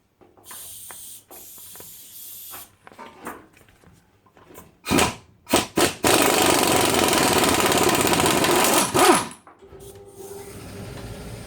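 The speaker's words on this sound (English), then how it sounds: "I wouldn't normally take spark plugs out with a windy gun." A loud pneumatic impact wrench removing spark plugs from an engine hammers in short bursts, then a long sustained rattling blast of air tool noise before cutting off, with workshop hiss around it.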